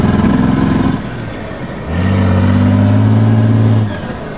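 A propane-injected vehicle engine revs loudly up close, holding a high rev, easing off briefly, then climbing to a second sustained rev before dropping back.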